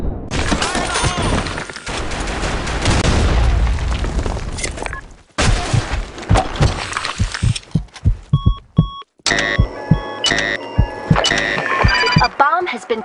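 Grenade blasts and gunfire in a Sand Storm II search-and-destroy match of an online shooter, loud booms and bursts of shots alongside voice callouts and beeping game sounds.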